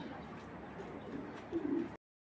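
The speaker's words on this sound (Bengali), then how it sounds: "পিছনেই আপনারা পাইবেন এই কবুতরগুলো।" Pigeons coo continuously against a steady background hum, with a slightly louder rolling coo near the end before the sound cuts off abruptly.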